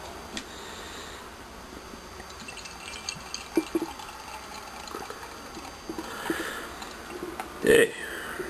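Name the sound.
pouring Glutaner sorghum-based pilsener beer into glass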